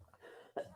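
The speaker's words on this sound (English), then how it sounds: "I'm going to sneeze" A single short, faint sneeze bursts out after a moment of quiet breathing noise, sharp and abrupt before fading away.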